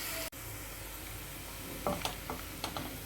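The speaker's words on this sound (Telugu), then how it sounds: "ఇలా నిదానంగా ఎర్రగా వేయించుకోవాలి ముక్కలు." Mutton pieces fry slowly in a pan for mutton soup, giving a steady low sizzle with a few brief clicks and scrapes near the end, and no voices.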